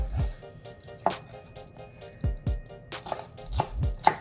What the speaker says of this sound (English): chop this down. Feel free to use gloves if you guys need to wear gloves.